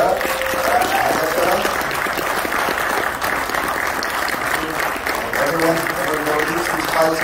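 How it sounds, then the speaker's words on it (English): Audience applause at an H.P. Lovecraft film festival screening, a steady dense patter of clapping lasting the whole stretch, with some voices mixed in. "Another round of applause for Roland Becerra."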